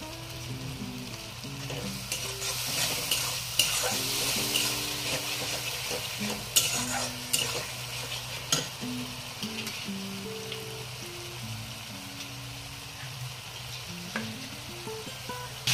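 Spice masala with turmeric sizzles and fries in a pan, a continuous crackling hiss broken by repeated scraping stirs and light knocks of the utensil against the pan, with no talk.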